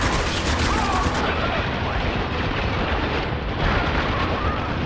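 Dense enemy gunfire in Spec Ops: The Line pours in as a loud, continuous barrage of overlapping shots and blasts, close and unbroken for the whole stretch.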